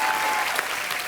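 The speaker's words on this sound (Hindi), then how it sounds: "जोरदार तालियां एक बार हमारे मेहमानों के लिए।" Studio audience applause for guests on a Hindi comedy talk show, a dense, steady burst of clapping filling the whole short moment at close range.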